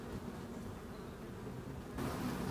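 Two or three honeybees buzzing close over a hornet they have killed, a faint steady drone that swells slightly louder near the end.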